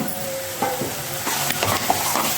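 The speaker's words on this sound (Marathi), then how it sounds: "ते वाटणाचं आणि जे आपण मसाले टाकलेले आहेत त्याचे छान असं तेल सुटू द्यायचं" Ground masala paste fries in oil and is stirred. A steady close sizzle is broken by scraping strokes of the spoon in the pan.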